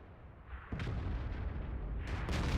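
An artillery gun fires in World of Tanks, a sudden heavy boom followed by a rumbling tail, with a second burst close behind near the end, loud and unaccompanied by talk.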